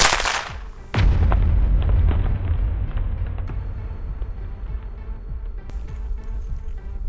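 AK-105 rifle fired through an extremely long silencer: one heavy, muffled boom followed by a long rolling echo and rumble that fades slowly, with a faint crackle later on.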